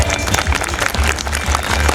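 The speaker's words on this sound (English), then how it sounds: "let's encourage our achievers with a thunderous round of applause" Audience applause at a school annual function award ceremony, St. Mary's Senior Secondary School in Rampur; dense, sustained clapping from a crowd fills the whole stretch at steady loudness with no talking.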